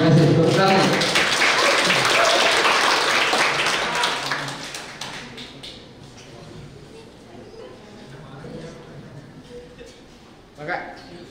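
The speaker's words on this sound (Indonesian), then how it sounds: "Tepuk tangan." Applause at a youth entrepreneurship lecture at Universitas Sebelas April in Sumedang, loud and dense at first, then thinning and fading away over several seconds, with a brief burst near the end.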